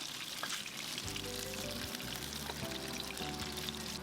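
Dried potato pieces fry in oil left over from browning chicken wings in a wok over medium-high heat for Portuguese chicken, giving a steady, close sizzle with crackles and no voices.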